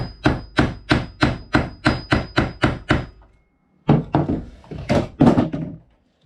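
A hammer flattens a metal trap swivel in a steady run of about ten heavy blows, then after a short pause several more uneven strikes, close and loud.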